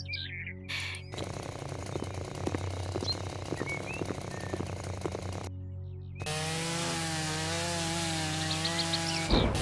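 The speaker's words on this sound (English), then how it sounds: "We have a chainsaw." A chainsaw cuts through wood in the House Flipper game, a close sustained buzzing rasp that cuts out, then comes back as a steady high revving whine, with no one talking.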